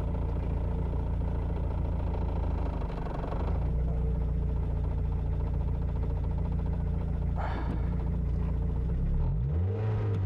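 A Mazda Miata autocross race car idles with a low, steady rumble while a learner driver works the clutch, the engine note dipping and shifting briefly near the end, close and loud with no speech.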